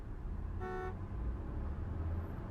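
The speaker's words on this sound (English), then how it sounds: "Honk." A single short car horn honk in the Broken Sword adventure game, a bright, brief toot of under half a second over a low rumbling street ambience, with a faint high tone later.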